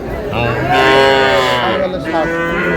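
Cattle at a livestock market lowing loudly in a long, close moo that rises and falls, followed by a second shorter call, with faint crowd noise behind.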